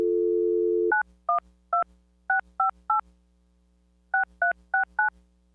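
A dial tone is heard briefly, then eleven crisp touch-tone keypresses follow in uneven groups as a phone call is placed, clear and close with no voices.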